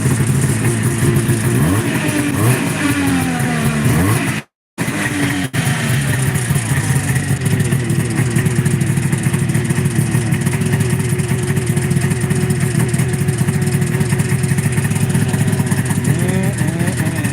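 A 1978 Arctic Cat Jag snowmobile's two-stroke engine runs close by, a steady buzzing idle with a few slight revs and wavering pitch, briefly cutting out once before continuing on its own.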